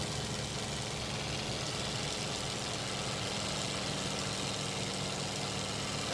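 TBM Avenger aircraft engine with throttle advanced for takeoff, a steady, loud, dense roar that holds constant throughout without pause.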